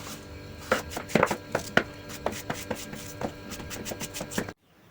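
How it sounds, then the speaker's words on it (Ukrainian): A knife cuts peeled apples into thin slices for thick apple jam, giving a rapid, irregular run of close, crisp taps on a board before stopping abruptly. "тепер нам потрібно порізати їх ось такими пластинками"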